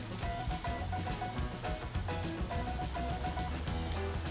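Onions and mushrooms sizzle steadily on a grill beside a buttered ribeye steak, a dense continuous crackle and hiss heard close up with no talking over it.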